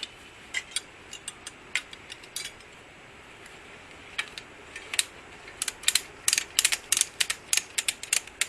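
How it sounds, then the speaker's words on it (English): Ratchet strap being cranked tight around a broken front spring on a Honda CR-V, a run of sharp metallic clicks in uneven bursts, sparse at first then faster and denser toward the end, close by with no talking. "So that's the ratchet strap round there, just to help for these not to come off."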